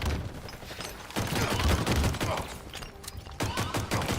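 Pistol fire in the shooter Halo Infinite, with rapid bursts of sharp shots and impacts that come in quick clusters over busy game noise during close-quarters hill control.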